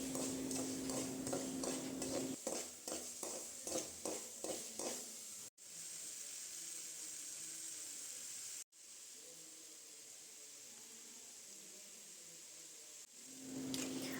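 Chopped onions for crab sukka tossed and fried in a pan, a steady close sizzle with rhythmic stirring scrapes early on, then a continuous hiss of frying with brief breaks.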